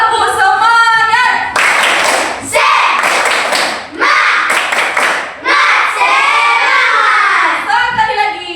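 A class of schoolchildren performs a rhythmic clapping chant, bursts of clapping and loud shouted chanting alternating with a teacher's voice leading them, close and lively.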